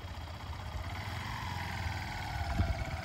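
A motorcycle engine hums steadily at moderate loudness during a riding licence exam, with a slight rise in revs near the end and no talk over it.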